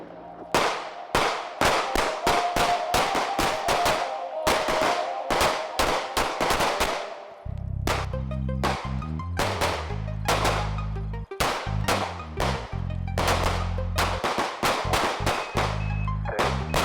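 Pistol gunshots at a shooting range in a pistol course, beginning with a cold bore shot, then many sharp, loud, close reports in quick strings with brief gaps, some echoing, with occasional faint voices.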